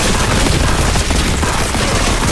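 Gunfire from Warhammer 40,000: Boltgun makes a loud, dense, continuous roar of rapid shots with no gaps and no talking.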